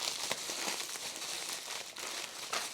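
Crinkly plastic packaging being cut open for a Tilt-Mod vPin lockdown bar brace kit, a steady close crackle of rustling film with brief sharper snips, no talk.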